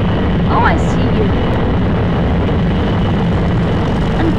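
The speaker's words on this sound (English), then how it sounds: "And my plane just taking off. Full speed ahead." A plane takes off in the Roblox video game, a loud, steady engine roar that holds level from start to finish, with a brief higher whine early on and no clear speech.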